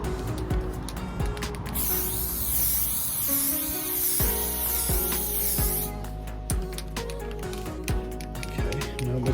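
A spray can of primer hisses onto a piece of card during rust repair on an ML55 AMG, a sustained close spray lasting several seconds amid rattles and clicks, with talking over it.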